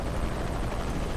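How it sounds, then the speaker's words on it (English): Helicopter rotor and engine from Shadow of the Tomb Raider, a steady, dense drone that fills the whole clip with no pause or voice over it. "Always hated helicopters."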